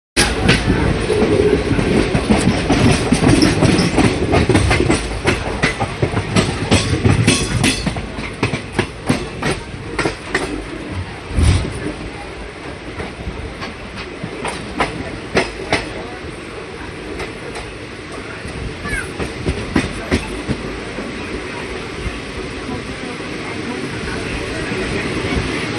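A passenger train runs on rails as it nears Rampurhat Junction, a loud continuous rumble with rhythmic wheel clatter that eases slightly midway. Faint voices may sit under it.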